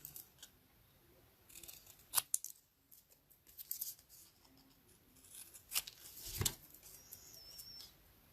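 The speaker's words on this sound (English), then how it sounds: "So we're going to cut that." Scissors cut through cardstock for a handmade stamped card, several crisp snips and rustling paper handling at close range, with quiet pauses between cuts.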